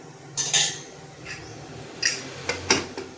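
A lid set onto a cooking pot of cowpea and brinjal curry, giving a few light metallic clinks and clatters spread over a few seconds, close by with no talking.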